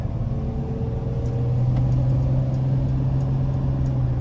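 A 2022 Mercedes-Benz 3500XD van with a 3.0 turbo inline-six cruises along, giving a steady low engine hum and road rumble heard from inside the cab, constant and moderately loud with no talking.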